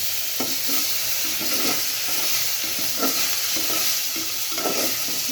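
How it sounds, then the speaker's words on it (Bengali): Fish pieces sizzle in hot oil in a kadai, a continuous bright frying hiss with bursts of crackling and spattering as the pieces settle and are stirred, close and steady with no talking. "তেল গরম হয়ে গেছে, আমি মাছগুলো দিয়ে দিচ্ছি।"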